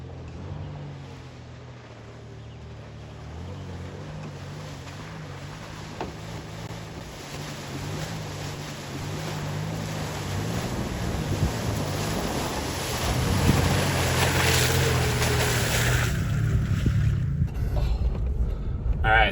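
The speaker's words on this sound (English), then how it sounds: "so we made it through that mud hole" A truck plows through a roughly six-inch-deep mud hole on a backcountry trail in southeastern Oregon, its engine drone steady while sloshing, splashing water and rumble build loudly toward the end, then drop away.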